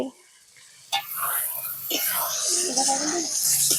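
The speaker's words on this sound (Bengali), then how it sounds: "আমি এটাকে ভালো করে কষিয়ে নেব।" Spice paste with tomato is sautéed in a pan over a wood fire, a sizzle swelling after a sharp clatter and continuing with stirring scrapes while someone speaks softly close by.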